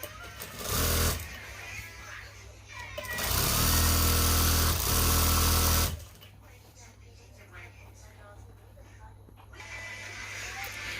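A sewing machine stitches a seam on trousers or a shalwar in two loud whirring bursts with pauses between, close by, and someone speaks in between.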